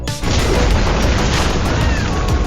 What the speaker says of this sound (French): L'énorme explosion a laissé Jack profondément satisfait